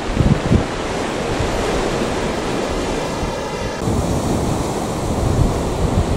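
Stormy sea surf crashing under strong wind on a stony beach, a loud continuous roar of breaking waves with gusty wind buffeting the microphone, no voices.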